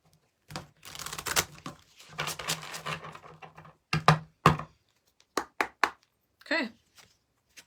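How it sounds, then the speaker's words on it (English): Quick papery riffling of tarot cards being shuffled, several short flurries and crisp taps, close by in a quiet room, with pauses between bursts. "I'm going to shuffle one more time"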